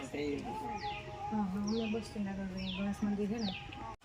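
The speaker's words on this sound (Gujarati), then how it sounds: "આટલા બધા આ બધાય કાબર ને બધાય બોલે છે" Mynas call repeatedly beside an old stepwell near a Mahadev temple, with rhythmic harmonic chatter and sharp falling whistles. The calls are close and steady, with other birds mixed in.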